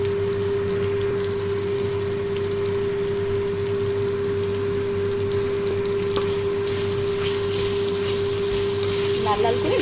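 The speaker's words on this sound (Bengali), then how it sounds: "লাল লাল করে ভেজে নেব।" Fish coated in salt and turmeric frying in hot oil, a steady dense sizzle with crackling spatter, growing brighter toward the end, heard close and continuous with no talk.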